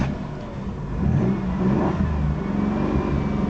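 A 1990 Chrysler Town & Country engine with an electrical fault cranks and catches, then runs up in a rough, close, loud rev before the sound settles and wavers as it falters.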